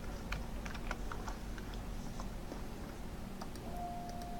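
A steady run of light, rapid keystrokes on a computer keyboard as text is typed into an Access database form, close up over a constant background hum, with no voices.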